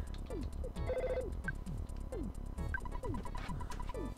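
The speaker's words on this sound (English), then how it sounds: "The phone!" EarthBound telephone ringing in-game, a repeated chiptune ring of pulsing beeps layered over busy looping background music with descending synth notes, loud and continuous.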